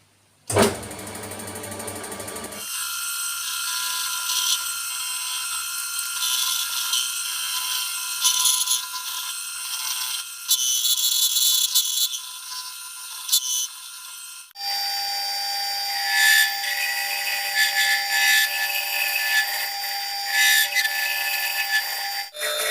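A high-pitched rotary tool whines continuously while hogging out the reed block of a Kawasaki AR50 two-stroke moped; its pitch shifts with load and it briefly cuts out and restarts midway.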